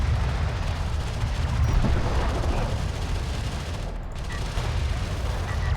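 Continuous weapons fire pounding a carrier in Homeworld: Deserts of Kha, a dense rumbling barrage of shots and impacts that stays loud and steady throughout, with no talk.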